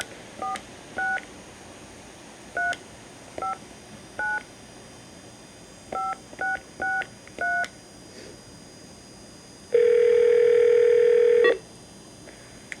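A string of short touch-tone telephone dialing beeps in an uneven rhythm, followed by a longer steady tone near the end, heard clearly over a faint background hiss with no talking.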